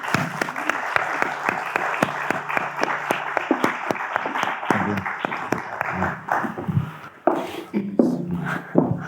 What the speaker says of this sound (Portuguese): uma salva de palmas para Nuno Carinhas